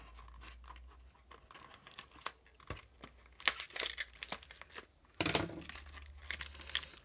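Small bottles are pulled out of their packaging while crafting a greeting card, with quiet crinkling, tearing and plastic scratching in irregular bursts, including a louder rip near the end; nobody speaks.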